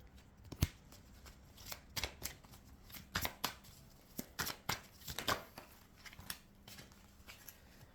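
Playing cards being shuffled for a card reading, a series of quick riffling and snapping bursts at irregular intervals, fairly close and alone without talk.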